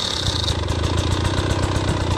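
A dirt motorcycle engine idling and chugging with a rapid, even beat while the rider pushes the bike over rocky off-road ground, loud and close with a brief higher hiss at the start.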